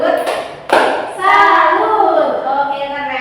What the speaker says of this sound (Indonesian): Sekarang kita tepuk salut dulu karena sudah berani maju.